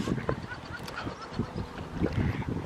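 Swans, geese and other waterbirds gather by a riverside boardwalk, giving scattered honks and calls over gusty wind noise on the microphone.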